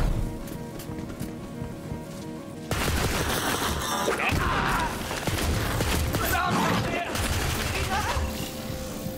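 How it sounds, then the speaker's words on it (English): Borderlands 3 firefight with sustained automatic gunfire and booming explosions that start after a quieter opening. A voice talks over parts of it. "I can't believe the explosion of this gun actually does one damage, bro."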